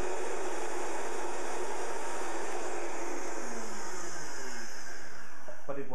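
A kitchen blender runs at a steady high whine while a long rod fitted through its lid stirs the contents. The drone is continuous and loud, with a shift in pitch near the end.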